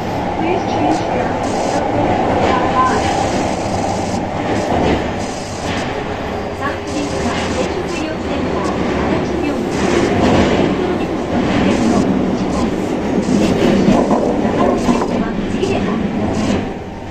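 A Kintetsu 20 series train with Mitsubishi hybrid SiC-VVVF drive runs through the Kyoto subway, its motor whine and rumbling wheels steady and close from inside the car, while onboard announcements play over it.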